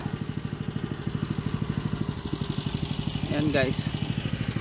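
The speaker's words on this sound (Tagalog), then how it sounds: "So, pinapainit ko lang yung makina natin." Small engine warming up at a steady idle, a rhythmic, close putter with regular pulses throughout, with a voice talking briefly over it near the end.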